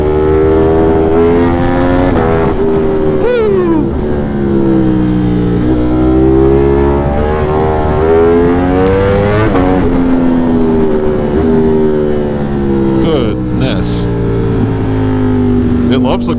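A 200+HP motorcycle engine revs hard while riding on a cold, foggy commute: a loud, close, continuous drone whose pitch climbs and falls repeatedly as the throttle opens and closes, with steady wind rush throughout.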